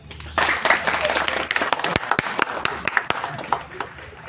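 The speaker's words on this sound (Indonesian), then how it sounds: "Tepuk tangan." An audience claps through a talk on the history of Soekarno's birthplace in Ploso, Jombang, with a dense burst of applause building after a brief lull and carrying on with sharp individual claps near and loud.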